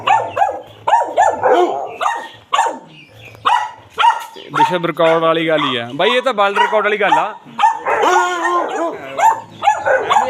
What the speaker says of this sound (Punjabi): ਇਹ ਦੇਖੋ ਜੀ ਕੁੱਤਾ ਇਹ 19 ਸਾਲਾਂ ਦਾ ਕੁੱਤਾ ਹੈ